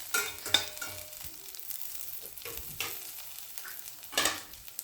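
Chopped onions and curry leaves sautéing in a pan for tomato gravy, a soft continuous sizzle broken by a few louder scraping stirs of a spatula, close by with no talk.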